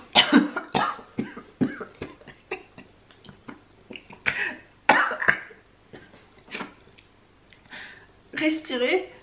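Repeated coughing fits mixed with laughter and breathy sounds, close to the microphone, with a few spoken bits in between.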